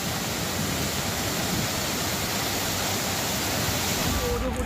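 Kempty Falls in Mussoorie, a waterfall swollen by floodwater, roars as a dense, steady broadband rush that stays loud and unbroken from start to finish, with no voices.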